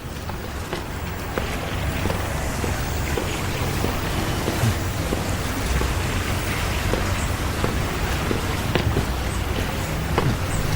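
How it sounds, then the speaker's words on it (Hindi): Steady rain pours down outdoors, a dense continuous hiss with low rumbling wind underneath and scattered drops hitting surfaces, holding at an even level throughout with no voices. "ओह, फिर से बारिश शुरू हो गई।"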